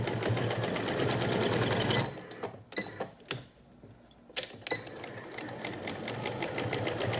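A sewing machine stitches a cloth face mask, running in a fast, loud rhythmic whir, pausing briefly for a few clicks and soft handling of the fabric, then starting up again at a steady pace.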